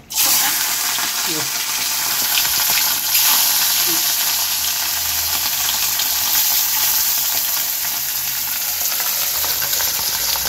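Topse fish fry in hot oil in a kadhai, giving a loud, steady sizzle that runs unbroken for the whole stretch with no one talking.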